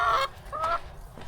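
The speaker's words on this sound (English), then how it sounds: "Hello, chickens!" Chickens cluck and squawk in short bursts on a roadside walk in rural Asia, loud and close at first, then a second call, with low background rumble.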